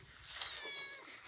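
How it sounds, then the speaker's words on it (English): A cat meows outdoors beneath peach trees, a faint, thin, drawn-out call with a quick onset, quiet and somewhat distant against soft background noise. "Meow. Meow, meow, meow, meow, meow."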